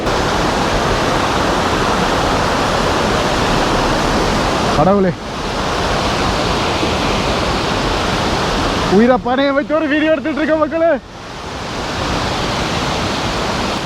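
Loud, constant roar of rushing, crashing water at Bomburu Ella waterfall in Sri Lanka fills the scene, with someone speaking briefly in Tamil over it twice.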